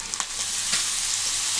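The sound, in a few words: stir-frying Schezwan egg fried rice in a pan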